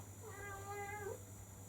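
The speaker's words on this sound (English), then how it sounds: "the cat's here, our manic cat, and she is going to meow and ring a bell" A cat meows once, a drawn-out, wavering call lasting about a second, heard close and fairly quiet over a steady low background hum.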